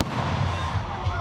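A fireworks display closing out performances at a festival with amusement rides, heard as dense continuous crackling and booming bursts, loud and close, with crowd noise mixed underneath.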